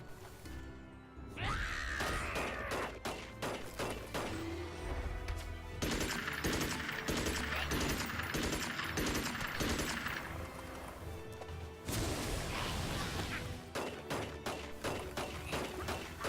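Rapid gunfire from a gun in the video game Magicka rattles in dense bursts, nearly continuous with brief breaks, loud and close amid crunchy impact and game effect noise.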